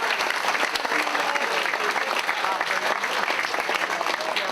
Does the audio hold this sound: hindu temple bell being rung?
no